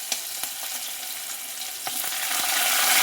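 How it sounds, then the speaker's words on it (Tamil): Curry leaves crackle in hot oil for vathal kuzhambu, giving a close, hissing sizzle with a few sharp pops that swells louder near the end. "இந்த எண்ணெயிலே வந்து கருவேப்பிலை சேர்த்துடணும்"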